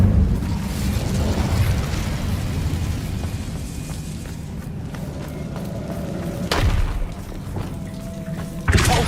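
An Incendio fire spell blast in Hogwarts Legacy, a low rumbling whoosh with thuds and booms over steady game ambience, ending in a sharp burst.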